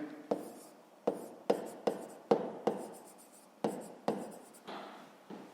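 Handwriting on paper while working a fifth-grade maths exercise, a series of about ten distinct scratchy pen strokes in an uneven rhythm, close and alone with no talk.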